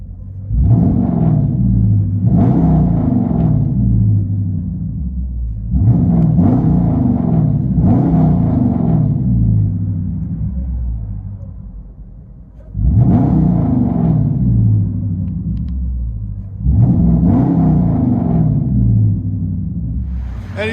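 Inside the cabin of a Dodge Charger V8 with an X-pipe delete, the exhaust rumbles deeply through four or five throttle blips separated by steady idle, heavy and muffled, with no talking.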